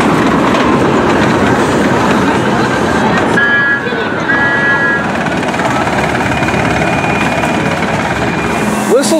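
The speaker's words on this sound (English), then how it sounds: "A little train here for the kids." A small children's train ride at Six Flags America rumbles and clatters steadily along its track, loud and close, with a continuous rolling drone and brief tonal squeals throughout.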